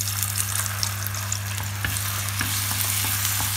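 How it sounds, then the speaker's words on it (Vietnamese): Instant noodles and egg stir-frying in a hot pan give a continuous close sizzle, with occasional soft scraping from stirring. "bây giờ các bạn cho mì, trứng vào, chúng ta xào"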